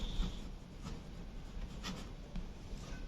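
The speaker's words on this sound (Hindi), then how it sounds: "तो यहाँ पर लिखेंगे चंपा इज करेक्ट।" A pen writes on paper during a maths lesson, with quiet scratching strokes and light taps close to the microphone against low room noise.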